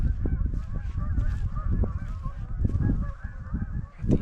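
Geese circling overhead honk repeatedly in overlapping calls, moderately near and fairly loud, with no talking.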